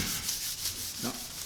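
A drypoint printing plate is rubbed and polished with tissue in a steady, close, dry scrubbing rustle that carries on without pause and with no talk.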